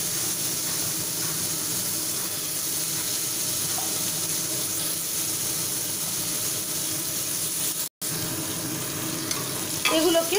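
Vegetables sauté over a low gas flame in a pan for chicken stew, giving a steady close sizzle with soft stirring scrapes throughout and no talk.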